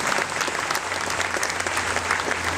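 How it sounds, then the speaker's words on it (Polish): A theatre audience at a benefit gala for Magdalena Zawadzka applauds as she comes on stage. The clapping is dense and steady, with a full, even roar throughout and no voices on top. "Te brawa się oczywiście należą"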